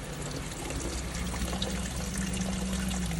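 Oil leaking from a loosened cooler on a Ford PPV, a steady close trickle and dribble of liquid running without break, with a low hum beneath.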